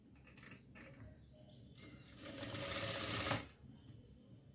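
A sewing machine stitches a baby frock, running in a steady close-up whir that swells toward the end before it slows, with faint background sounds.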